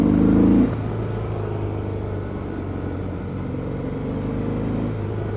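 A 2017 Harley-Davidson Breakout V-twin motorcycle engine pulls hard under acceleration, with a loud low rumble and a brief louder surge at the start that settles into a steady, close drone.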